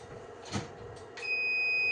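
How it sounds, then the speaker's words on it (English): An electronic scoring or timing device at a practice session for a New Taipei City-level competition gives a steady, sustained tone after a brief soft tap, fairly clear with no talk. "it will beep again"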